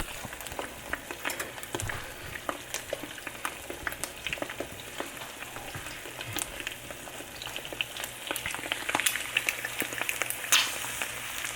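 Eggs frying in a pan give a steady crackling sizzle with scattered sharp pops, close and moderately loud, running continuously without any voices.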